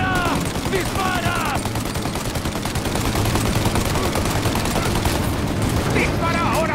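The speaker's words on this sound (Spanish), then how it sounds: "¡Espera a que recarguen para disparar a la torreta!" Sustained gunfire in a firefight against a turret in Mafia Definitive Edition, with dense overlapping shots rolling continuously under shouted voices and game noise.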